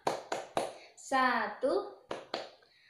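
Sharp hand claps land in a rhythmic pattern, several quick claps followed by a spoken counting word and more claps, as a kindergarten group does a clapping chant; a voice speaks between the claps.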